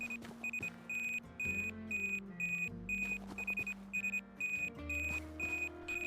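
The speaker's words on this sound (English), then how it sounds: "Now you hear the beeping get louder?" A metal detector in the roleplay video game Cardwaithe beeps in short, bright electronic pulses, repeating in regular bursts that grow quicker toward the end, over a low droning game soundtrack.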